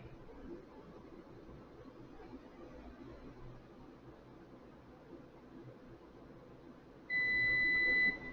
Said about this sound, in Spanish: va a sonar el pitido que indicaría que ya llegó al set point que hemos deseado